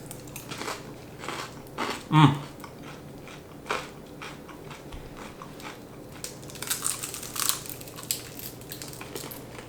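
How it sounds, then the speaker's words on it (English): Crunchy bites of crisp toast land in scattered bursts, one loud crackling bite standing out, with some quiet talk in the background. "A bit crunchy. I love really crispy bread."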